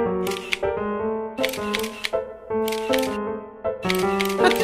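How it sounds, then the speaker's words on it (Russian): Camera shutter clicks from an animated horror cartoon sound in four quick bursts over a tonal musical background, a phone or camera snapping repeated photos. "И сфотографируй нас разиков так 10, чтобы наверняка получилось."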